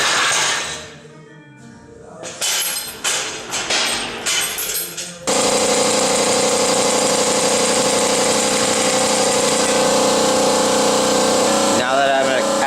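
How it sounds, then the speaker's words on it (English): An air-powered ram lifts an engine to working height in a garage, first a series of short bursts and clunks, then a loud, steady pneumatic hiss and hum that runs unbroken to the end. "I have an air-powered Ram to make my life a little bit easier,"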